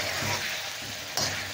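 Mutton karahi fries and is stirred over a high flame in oil, a steady sizzle with scraping stirs and a sharp clatter near the end, close up.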